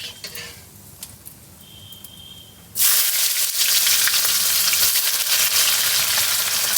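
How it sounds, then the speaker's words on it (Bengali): Chopped onions hit hot oil with bay leaves and cumin, setting off a sudden loud, broad sizzle that stays steady and close after a quieter stretch of faint kitchen clatter. "এই পেঁয়াজটাকে একটু ব্রাউন কালার হওয়া পর্যন্ত ভেজে নেব"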